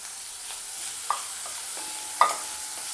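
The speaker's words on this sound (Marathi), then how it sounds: "कांदा छान असा परतून घ्यायचा" Onion sautéing in a pan with garlic and ginger for ragi soup, a soft, even sizzle with a couple of light spoon clicks as it is stirred.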